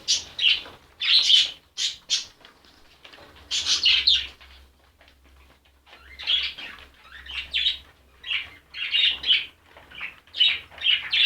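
Pigeons, a white male chasing his mate around a nest, flap and call close by in repeated bursts of wing beats and short squawks, separated by brief quiet gaps, with a faint low hum underneath.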